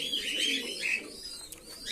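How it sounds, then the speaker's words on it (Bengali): Pigeons released for their morning feed coo softly in a short, close murmur, with small chirps over the low cooing. "সব পায়রাগুলোকে ছাড়া হয়েছে, খাবার দেওয়া হয়েছে, এগুলো বেশ খাচ্ছে ভালোই"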